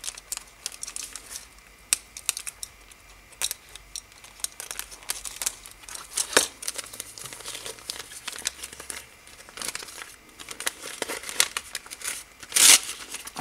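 Packaged craft die sets being unwrapped, with plastic crinkling, tearing and scattered small clicks and rustles, close up and fairly quiet, plus one brief sharp tear near the end.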